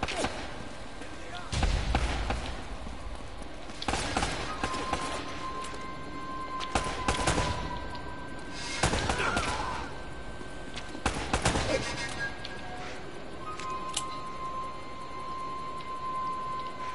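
Gunfire in the video game Uncharted: Drake's Fortune, bursts of sharp booming shots and heavy impacts scattered across the stretch amid game ambience, with a player's voice talking over parts of it.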